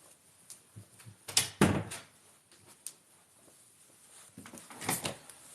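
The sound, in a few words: door being closed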